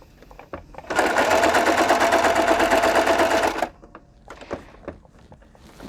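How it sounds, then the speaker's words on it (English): A sewing machine runs in one steady burst of rapid stitching for about three seconds, loud and close, with light handling clicks before and after. "I'm going to take a second and zip this right on the sewing machine"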